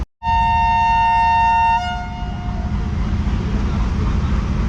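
A loud, sustained two-tone departure horn from AGE30 locomotive 6026 at Multan station, sounding close for about a second and a half before cutting off into a steady low engine rumble.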